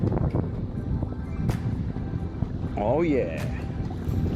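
An electric solar-powered ocean kayak runs at full throttle up a river, its motor whine and water rush blending with wind buffeting the microphone, and a person speaks briefly over it.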